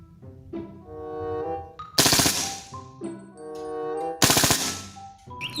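Toy M4 rifle sound effect: two loud bursts of rapid electronic gunfire, each cutting in sharply and then trailing off, with beeping tonal toy sounds in between and after.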